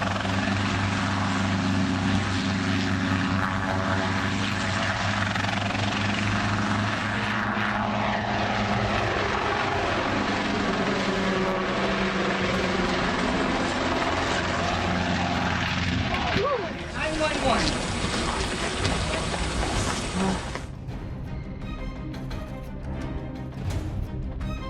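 A helicopter's rotor and engine drone loudly and steadily during an air show, with a voice speaking over it and a shift in tone near the end.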